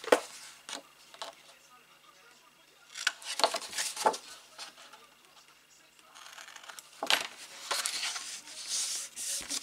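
Scissors snipping a bevelled edge into card for a Harry Potter pop-up album page, a series of short, crisp cuts in scattered bursts with louder rustling passages, fairly close and with no voices.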